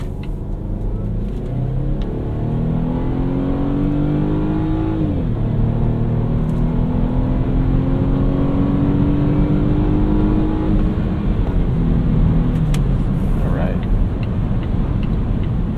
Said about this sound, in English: Acceleration was very impressive. Pretty cool sounding 2-liter turbo as well.